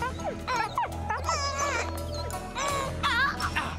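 Dingo in a cartoon yips, barks and whimpers in quick high-pitched bursts, close and fairly loud over a soft background bed.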